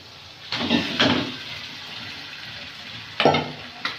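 Chicken pieces hit hot oil and spice masala in a village kitchen, sharp bursts of sizzling and stirring scrapes at intervals over a low steady fry, close by.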